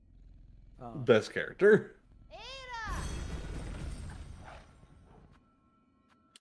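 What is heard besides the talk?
creature purring in Hollow Knight: Silksong video game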